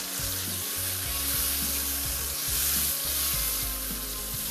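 Chicken masala being mixed with yogurt in a hot pan, giving a loud continuous sizzle and hiss under a low rhythmic hum, steady throughout with no talk.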